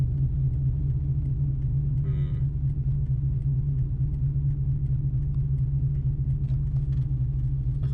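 A 2000 Ford Mustang GT V8, tuned to about 300 horsepower, idles with a deep, steady, loud rumble close by, and a brief faint higher sound passes over it partway through.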